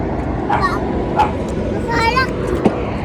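Small dog yips and barks a few times in quick bursts, fairly close, over the steady rumble of a ride-on electric toy car with voices talking.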